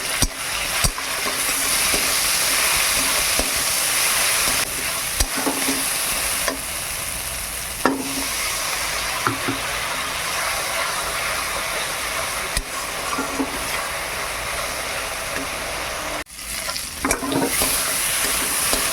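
Onion, tomato, ginger, garlic, turmeric and chili powder sizzle steadily in a pan for a village curry with potatoes, with intermittent scraping and stirring clatters of a spatula throughout, no talking.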